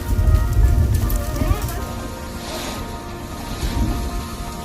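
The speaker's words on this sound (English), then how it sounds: "That's hail." Hailstones pelt down in a steady, loud rattling wash during a storm outside a house, with a heavy low rumble and no pause in the drumming.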